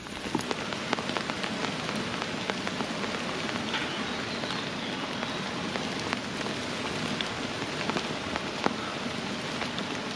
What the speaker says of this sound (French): Ça y est, enfin la pluie s'installe.